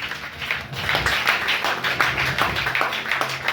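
A church congregation clapping hands together during a healing prayer service, a dense run of irregular claps close by with a low hum underneath, lasting a few seconds.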